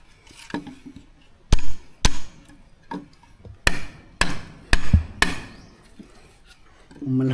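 Hammer striking a nail into wood, about eight sharp, loud, close blows at an irregular pace, with faint talk and rustling between strikes.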